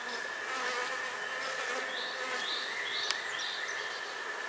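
Honey bees buzzing around an opened hive during an inspection of brood frames, a dense steady hum with individual bees droning close by now and then, no voices.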